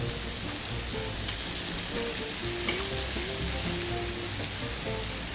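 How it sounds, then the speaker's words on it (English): Thin bacon slices fry in a hot pan on high heat, a continuous close crackling sizzle with no voices over it. "This bacon's so thin, it doesn't take long to cook."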